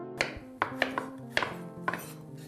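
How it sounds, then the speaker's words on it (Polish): A knife chops organic, firm potatoes into very small pieces for soup, striking the board in about five crisp, close, irregularly spaced cuts. "Ziemniaki kroimy według upodobań."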